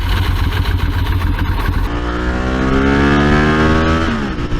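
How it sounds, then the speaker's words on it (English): A 1995 Ducati 916 Biposto motorcycle engine roars loud and close, first a rough steady rumble, then climbing sharply in pitch as it revs hard through the upper range. "1995 Ducati 916 Biposto with a beard hair on it"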